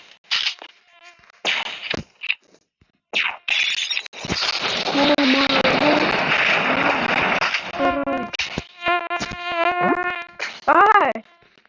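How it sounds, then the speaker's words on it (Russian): Mosquitoes buzz close by in bursts of whining drone, with someone speaking and shouting over and between them. "Это уже бешеные комары."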